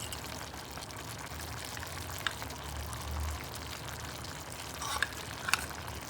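Breadfruit pieces cooking with ground masala in a pan are stirred, a soft steady sizzle with a few light scrapes and clicks of the spoon, close and quiet.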